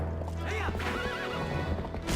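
A horse in Zelda Twilight Princess whinnies loudly mid-ride, its neigh rising and wavering over the steady clip-clop of galloping hooves and the game's music.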